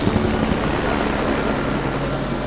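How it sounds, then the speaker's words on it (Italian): Helicopter delivering a SWAT team in the video game SWAT 4, a loud, steady, close rotor drone with a thick, unbroken whir throughout and no voices. "l'elicottero che scarica gli altri SWAT."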